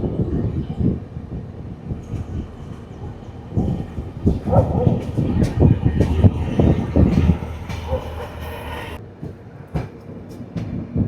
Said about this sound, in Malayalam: ഇന്ത്യയിലെ തന്നെ ഏറ്റവും പവർഫുൾ ആയിട്ടുള്ള ലോക്കോമോട്ടീവ് ആട്ടോ ഈ കാണുന്ന വാക് 12.